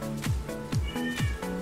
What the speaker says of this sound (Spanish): Uy, mi gata. No sé si se escucha,